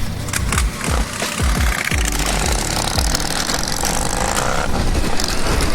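An Indian motorcycle's engine accelerates hard with strong low-end torque, a loud, rough, close-up mechanical roar with rapid pulsing that builds and holds steadily for several seconds over wind and road noise.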